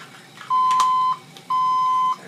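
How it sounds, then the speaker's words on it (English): A lab timer gives two sustained, steady electronic beeps of equal length, loud and clear, separated by a short gap, while a sample is being taken off a hot plate for washing. "Our timer."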